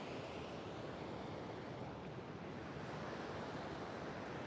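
Ocean waves on an oceanfront beach make a steady, unbroken wash of surf and breeze that holds at an even level throughout, with no voices.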